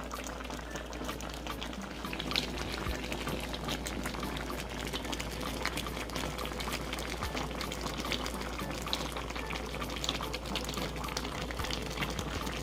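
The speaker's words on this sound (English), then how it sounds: "So, our crab soup simmering." Bahamian crab soup with dumplings and thyme simmers in a pot, giving a steady, continuous bubbling that stays even and close throughout with no voices.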